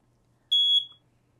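A single short, piercing electronic beep of about a third of a second, heard in a quiet room when the test button of a smoke detector in a 2024 Ventana is pressed.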